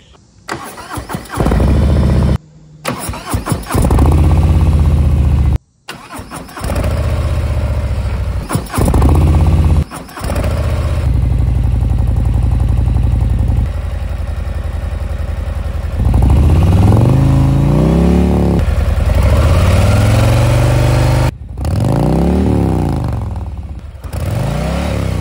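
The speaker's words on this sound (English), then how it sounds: "Now let's do the sound check." Harley-Davidson Low Rider ST motorcycle fitted with TAB Performance slip-on exhausts starts up, then idles and revs repeatedly with rising and falling throttle blips, loud and close with no talking.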